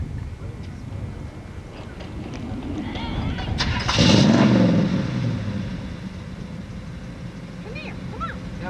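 A big truck engine cranks and catches close by, rising to a loud roar partway through before easing back to a rumbling idle, with faint voices around it.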